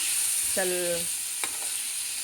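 A constant hiss of radish frying in a pan fills the clip, with a short voiced sound and a brief clink partway through.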